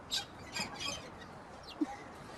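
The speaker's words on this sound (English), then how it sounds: "Michael likes to spend his time caring for his 6 tropical birds" Several short, sharp bird calls and chirps burst out in the first second, followed by a faint squawk later, against a quiet noisy background.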